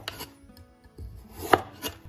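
Knife scraping and cutting through a raw pumpkin as it is peeled and seeded, a few short close strokes with a louder scrape near the end, no talk.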